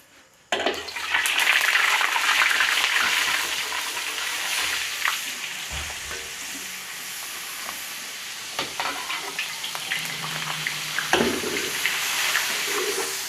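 Oil and margarine hit a hot pan with a sudden loud sizzle that settles into a steady, close, hissing fry with occasional crackles and stirring noises.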